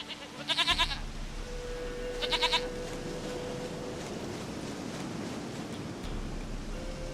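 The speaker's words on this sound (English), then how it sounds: "Goat of mine, dearest, sweetest goat." Two short bursts of goat bleating from The Witcher 3: Wild Hunt, each a quick wavering series of cries near the start and around two seconds in, over a steady ambient game background with no talk.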